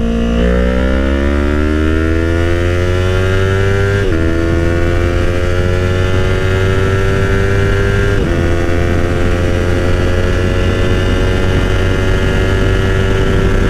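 A motorcycle engine drones loud and close while riding. Its revs climb steadily and drop at two gear shifts, then climb again, with constant road and wind roar underneath.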